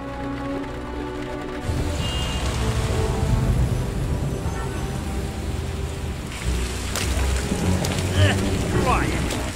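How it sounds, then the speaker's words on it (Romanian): Heavy rain pours steadily on surfaces during a thunderstorm in an animated city scene from the Romanian dub of Paw Patrol: The Movie, with low thunder rumbling and a few faint voices beneath the downpour. "Ploaie! Plouă mereu în orașul ăsta amărât!"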